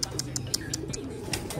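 Pigeons coo softly in a loft, a string of short repeated calls over a quiet background, with no one talking.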